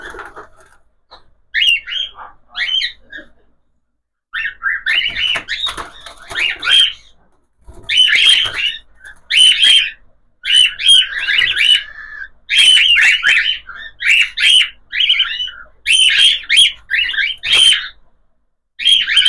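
Several cockatiels chirp and whistle in bursts of bright, repeated calls, close and fairly loud, with short quiet gaps between flurries and no talking over them.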